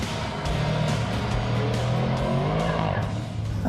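An MTM-tuned Audi RS6 producing 1001 bhp on Michelin tyres drives along with a steady, close engine drone and road roar inside the cabin, plus faint intermittent knocks and a little tyre noise.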